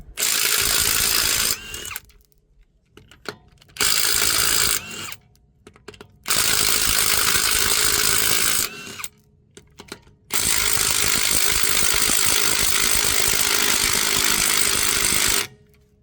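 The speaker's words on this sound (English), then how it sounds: "we'll take off our lug nuts using a 21mm socket with the impact wrench" Impact wrench with a 21mm socket spinning off the lug nuts on the front wheel of a Mercedes-Benz GLA, in four loud sustained bursts separated by brief pauses.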